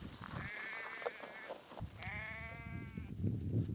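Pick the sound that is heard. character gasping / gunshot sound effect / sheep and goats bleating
sheep and goats bleating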